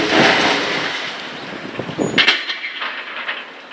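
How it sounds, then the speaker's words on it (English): A train rumbles past at Willesden Junction near the West Coast main line, a broad loud roar that cuts off abruptly, followed by metallic clangs and fading rail noise. "Central bound train soon joining up onto the West Coast main line, leaving the West London line"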